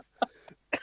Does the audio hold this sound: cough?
yes